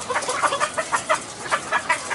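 Hens cluck in quick, repeated bursts at an egg farm during a cold spell, close and fairly loud, with no talk over them.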